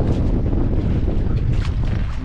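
Strong northeast monsoon wind buffets a small fishing boat at sea, a rough, continuous roar of gusts hitting the microphone with low rumble throughout a short stretch.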